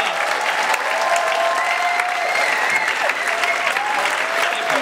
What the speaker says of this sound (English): can you please have a big round of applause for the actors, the singers,